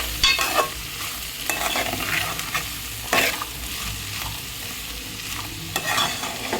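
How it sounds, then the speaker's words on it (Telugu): Sliced onions fry with bitter gourd in a pan, a steady close sizzle punctuated by several loud scraping stirs at irregular intervals. "కాకరకాయల్లో ఆనియన్స్ ముక్కలు వేస్తున్నాను. వేసేసాను. ఇప్పుడు ఇలా వేయించుకోవాలండి."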